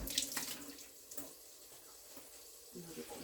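Kitchen tap water running into a sink for washing up, a steady close splashing stream that stops briefly partway, then resumes, with faint clinks and a few murmured words nearby.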